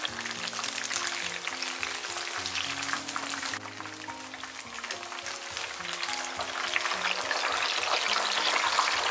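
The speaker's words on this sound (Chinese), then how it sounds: "边炸边给它搅动，大概给它炸两到三分钟" Mushroom pieces deep-frying in hot oil while being stirred, giving a dense continuous sizzle and crackle with occasional scraping clinks, close and fairly quiet throughout.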